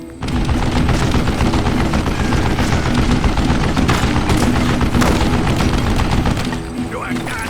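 Sustained gunfire from a western shootout in the Call of Juarez Gunslinger video game, dense and loud, continuous shots and booms over a steady layer with a voice underneath.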